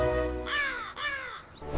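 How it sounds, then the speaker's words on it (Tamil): A black crow caws twice in harsh, drawn-out calls, loud and close, with a brief fainter call near the end and no talk. "ஒரு அழகான ஊர்ல ஒரு கருப்பு காகம் இருந்துச்சாம்"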